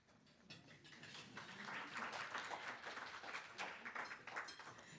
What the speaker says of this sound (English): He will love to know that you clapped for his quote